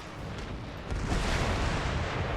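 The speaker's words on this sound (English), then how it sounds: "Tons of cannon fire coming here." Cannon fire in a Netherlands battle strategy game rumbles as a dense, loud roar of overlapping booms that swells after the first second and stays heavy to the end.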